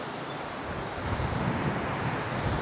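A rough, churning river in Georgia rushes in a steady, broad roar that swells slightly midway, with some wind noise buffeting the microphone.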